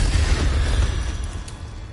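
An Incendio fire spell from Hogwarts Legacy erupts in a loud, deep, rushing roar of flame that swells and then slowly fades, with a few faint high glints near the end.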